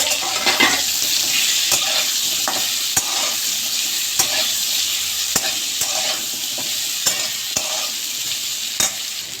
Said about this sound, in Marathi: आपण आता कैरीच्या फोडी ॲड करू व चांगल्या प्रकारे परतून घेऊ।